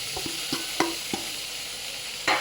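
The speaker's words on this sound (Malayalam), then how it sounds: "എന്നിട്ട് മസാല നല്ലപോലെ പിടിക്കാൻ നല്ലപോലെ ഒന്ന് ഇളക്കി കൊടുക്കാം." Tomato and masala for a one-pot chicken biryani are stirred in a pot, a handful of quick spoon scrapes and knocks over a soft frying sizzle, close and fairly quiet.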